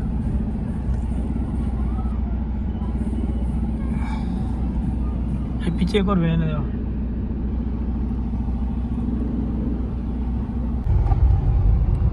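A DJ pickup truck arriving at a Ganesh installation festival, its steady engine rumble running low and continuous under crowd chatter and talk, with a brief rise in noise near the end.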